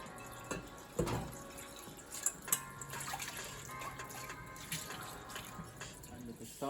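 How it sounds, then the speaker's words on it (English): Water poured into a cooking pot for boiling rice in a home kitchen, a faint uneven splashing and trickling with small clinks, quiet and close, with a voice at times. "pour some water"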